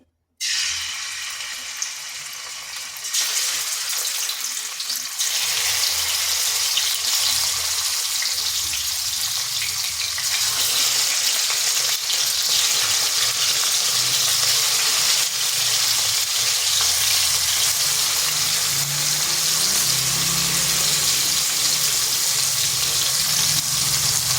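Fish pieces rubbed with salt and turmeric fry in oil in a wok, a loud continuous sizzle and spatter that holds steady for a long stretch, close up and without speech.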